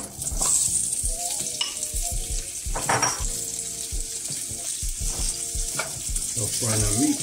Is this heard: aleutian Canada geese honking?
no